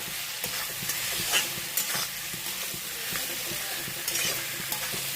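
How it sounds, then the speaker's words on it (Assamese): A spoon stirs fried potatoes through sizzling Bengali-style fish curry in a pan, repeated scraping clicks and knocks over a steady bubbling hiss of oil, close and continuous. "আলুখিনি দি অলপ লৰাই"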